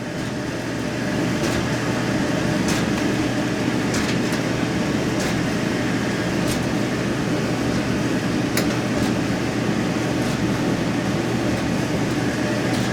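A Whirlpool clothes dryer runs on high heat with its cycling thermostat, giving a steady, close drum rumble and blower hum with faint intermittent ticks and taps, and no voices.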